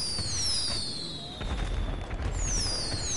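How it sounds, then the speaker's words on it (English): Fireworks bursting in the sky in GTA V, a few dull booms and crackles with high whistling streaks, moderately loud and continuous for about three seconds. "Fireworks in the sky, guys"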